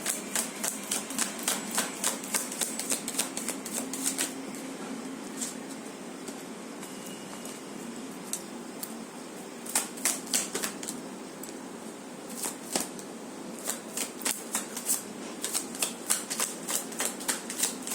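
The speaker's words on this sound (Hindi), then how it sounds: "Last shuffle." Tarot cards shuffled by hand in repeated quick riffling bursts, crisp papery flutters and taps close up, pausing briefly between rounds, with almost no voice.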